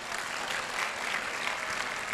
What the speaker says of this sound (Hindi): ऑडियंस थोड़ी तालियां तो हो जाए